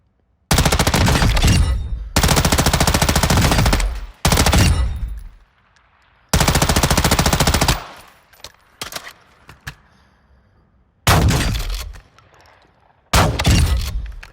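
Shotgun fire in a Call of Duty video game comes in several very loud, long blasts separated by short quiet gaps, with faint metallic clinks and handling sounds between the shots and no talking.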